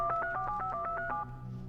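Rapid touch-tone telephone dialing, about eight evenly spaced beeps in a quick run, clear and alone with no talking, then a soft hiss of room noise once the tones stop.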